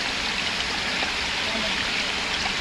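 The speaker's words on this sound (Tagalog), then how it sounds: "mga maliliit na falls na to, na pinoproduce naman ng mga ugat ng puno" Small waterfalls fed by tree roots pour cool mineral-tasting water, a steady close rushing and splashing wash that never lets up.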